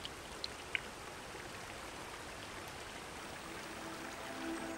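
A fast-flowing young river stream, a steady broadband rush of water with a few faint drip-like ticks near the start, moderately quiet and continuous.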